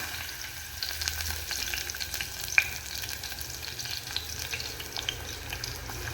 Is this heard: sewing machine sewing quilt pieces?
no